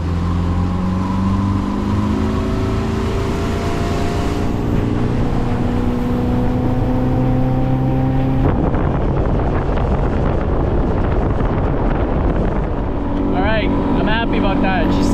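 A fishing boat's outboard motor, freshly repaired after a water pump replacement, runs steadily with a continuous droning hum and heavy wind buffeting the microphone, the pitch shifting partway through as it revs, with no voices over it.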